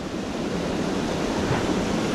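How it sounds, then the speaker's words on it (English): A small mountain waterfall stream near Zermatt rushes steadily, a dense broadband wash of falling water with no breaks, fairly close and alone without talk. "But we do have this nice little waterfall stream coming down."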